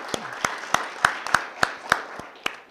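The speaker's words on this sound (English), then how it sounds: "let's give them a clap" A few people at a school board meeting clap in a thin, scattered way, giving about eight distinct claps spread over a couple of seconds rather than full applause.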